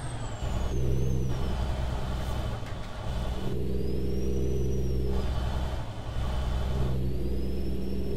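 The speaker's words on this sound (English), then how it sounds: "I can't remember what engine's in this. I think it's a Cummins." Kenworth W900 truck, probably with a Cummins engine, in American Truck Simulator, giving a steady loud diesel drone with low harmonics and rising whines as it accelerates through gears, alone without talk.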